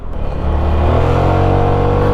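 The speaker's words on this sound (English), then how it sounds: "The engine at a high RPM is quite loud." A Zontes 350D motorcycle engine revving hard at high RPM, a loud, steady, smooth drone that climbs after a brief rise and then holds strong and close, with no voices.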